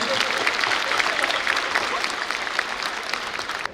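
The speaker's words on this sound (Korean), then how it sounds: "저희 박수 한번 치고 넘어갈까요?" Audience applause fills a graduation ceremony hall at Eulji University's Seongnam campus, a dense, steady clapping that stays loud and even for about four seconds without voices over it.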